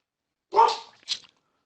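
A dog nearby in a quiet room lets out one sharp bark followed by a shorter, softer yip, then silence, with no talk around it.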